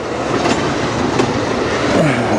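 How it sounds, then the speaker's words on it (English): An industrial freight train rolls past on the track, a loud, close, continuous rumble with rhythmic clicks from the wheels over rail joints and a faint squeal near the end. No voices are heard. "You can see another industrial train coming down the track there"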